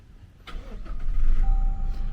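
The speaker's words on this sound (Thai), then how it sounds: "เดี๋ยวจะสตาร์ทรถให้ดูก่อนเหยียบเบรกนะครับ และ กดปุ่มสตาร์ท" A 2020 Toyota Hilux Revo Rocco 2.4 automatic pickup starts by push button: a short starter crank rises into a steady, close engine idle that continues to the end, with no talking.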